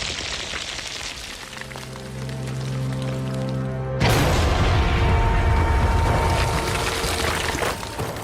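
Explosive blasting during Erie Canal construction: a steady low mechanical hum gives way to a sudden loud boom, followed by sustained rumbling and debris-like roar that continues for several seconds, with no voices.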